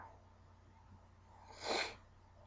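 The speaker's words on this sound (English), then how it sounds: "Excuse my sniffles, I'm still having a cold." One short, breathy sniff from someone with a cold stands out against quiet background noise, close and brief.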